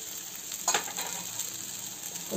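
Grated coconut stirred into avarekalu uppittu in a pan, a soft continuous frying hiss with light scraping strokes, faint and close, no voices.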